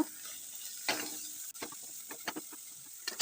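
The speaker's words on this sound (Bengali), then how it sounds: "তো দেখো আমি এখানে ভেজে নিচ্ছি" Grated bottle gourd fries in ghee with a quiet, steady sizzle, punctuated by a few soft scraping stirs and clicks of a utensil against the pan.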